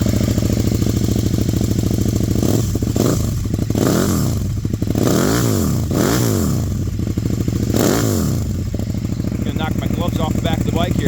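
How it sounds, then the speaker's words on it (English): A 2015 KTM Super Duke motorcycle with an aftermarket exhaust idling up close, a steady throaty rumble swelling with several quick throttle blips before settling back, while someone talks over it. "here's the aero exhaust for you"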